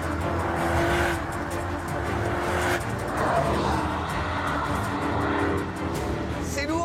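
A Porsche Cayenne Coupe accelerates hard through a compression zone on a race track, its engine roaring loudly and steadily with broadband road and wind noise, tire sounds rising and falling throughout.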